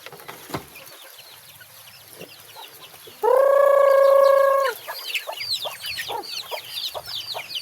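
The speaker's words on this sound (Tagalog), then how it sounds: "Kaya bumili ako ng lalaking white leghorn." Chickens on a small farm, including a white leghorn rooster, cluck softly and repeatedly nearby, broken by one loud, sustained crow lasting over a second.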